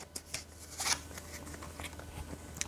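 Tarot cards are shuffled and a single card is drawn from the deck, a few soft papery swishes and flicks close by, with a brief louder riffle near the start.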